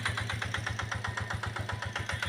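A Kubota KRT140 4x4 small tractor running in a lime orchard while cutting weeds, its engine throbbing in a steady, even pulse at close range with no other sounds.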